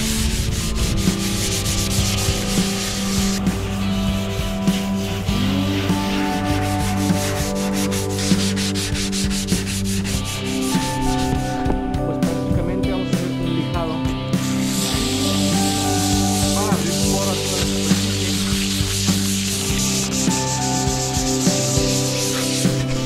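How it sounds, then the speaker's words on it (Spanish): Sandpaper is rubbed by hand across the roof of a school bus being converted, a loud, close, continuous rasping in quick back-and-forth strokes, with background music underneath. "Mucho que lijar, amigos. Mucho que lijar."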